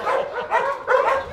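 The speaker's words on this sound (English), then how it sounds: "look at the puppies" Dogs in clean hunting kennels give short, quick yips and whimpering barks, three bursts in about a second and a half, close and fairly loud.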